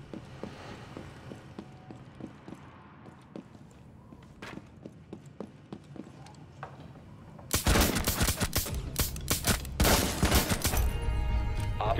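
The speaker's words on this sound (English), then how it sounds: "He's shooting at me from this window here." Gunfire in Rainbow Six Siege starts as scattered single shots and footstep-like taps, then erupts into a loud, sustained burst of rapid automatic fire in the latter half.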